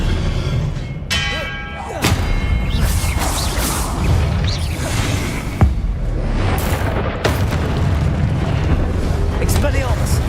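An Expelliarmus spell is cast in Hogwarts Legacy with booming magical blasts, thuds and ringing effects in a loud, busy battle. A voice can be heard over the effects.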